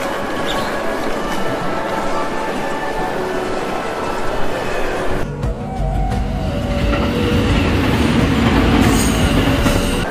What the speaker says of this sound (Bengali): কিছুক্ষণ পরে ট্রেন ছাড়ল।